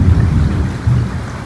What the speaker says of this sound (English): Oh, nice thunder.